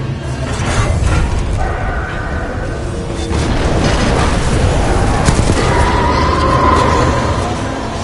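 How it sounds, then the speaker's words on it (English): Rumbling explosions in the Titanfall 2 shooter, a continuous loud roar of booms and crashing debris layered with mechanical clanks, dense and close with no clear gaps between blasts. "a series of explosions just weakened the manipulator arm"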